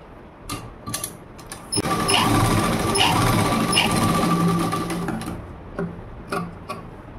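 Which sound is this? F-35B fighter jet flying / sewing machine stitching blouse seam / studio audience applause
sewing machine stitching blouse seam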